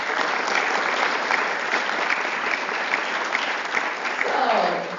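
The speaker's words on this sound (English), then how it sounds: "So please join me in giving a big round of applause to our supporters." An indoor audience at a humanities lecture event applauds its supporters with dense, sustained clapping that stays steady for several seconds and tapers only slightly toward the end.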